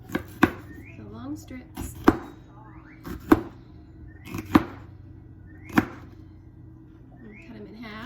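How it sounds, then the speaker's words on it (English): Knife chopping vegetables on a plate while making a Greek pasta salad, about eight sharp, separate cuts at an uneven pace, close and clear, with a person talking quietly between strokes. "Turn these over and chop."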